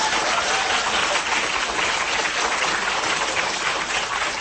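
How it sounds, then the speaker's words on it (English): A warm round of applause from a campus audience for a literature discussion panel, a dense, even wash of clapping held at steady loudness throughout. "let's give our panelists a warm round of applause"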